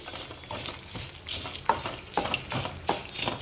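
Sesame seeds frying in a pan for a Telugu amaranth-leaf roti pachadi chutney, giving a light, steady crackle with soft stirring scrapes and small pops throughout, close and moderately quiet.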